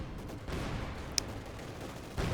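Rapid machine gun fire from Company of Heroes 2, a dense continuous burst of shots on a woodland map, loud and close with one sharp crack standing out.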